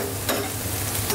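Potatoes fry in butter in a pan for Tyrolean Gröstl, giving a steady close crackling sizzle with a couple of brief scraping stirs.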